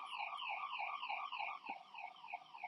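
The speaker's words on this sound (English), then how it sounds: "we've got an alarm going off" An electronic alarm going off inside a building, a repeating warbling tone that rises and falls in quick regular cycles, steady and moderately loud with no talk.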